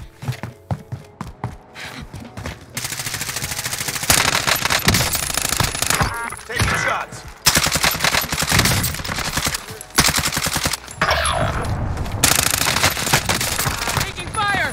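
Automatic gunfire from an LC10 in Call of Duty Warzone cracks out in loud, rapid bursts separated by brief pauses, with game voices and other sounds mixed in.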